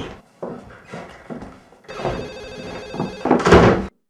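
A telephone rings in an Ethiopian film scene, a rising electronic trill that grows louder near the end and stops abruptly. Earlier come a few soft knocks and thuds.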